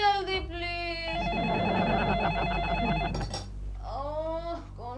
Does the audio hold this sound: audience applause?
no